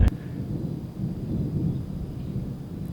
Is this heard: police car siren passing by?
no